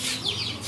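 Chickens cluck briefly at a home, a short soft burst of clucking over a steady background hum.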